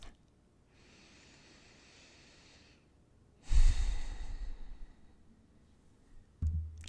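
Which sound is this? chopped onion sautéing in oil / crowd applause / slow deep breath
slow deep breath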